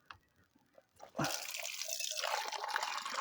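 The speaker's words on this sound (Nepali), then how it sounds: "गिलासमा पानी भर्दैछु" Water pours into a drinking glass with a steady, close splashing rush that starts abruptly after a few faint knocks and keeps going to the end.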